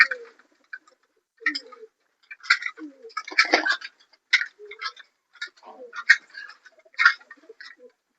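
Young racing pigeons on a landing board coo softly in short, scattered bursts. Their wings and feet add light ticks and flutters, and the birds sound near in a quiet setting.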